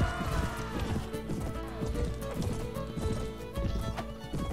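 Hooves clip-clop in a quick galloping rhythm in a video game, joined by a horse's neigh, with layered game sound effects over a continuous background.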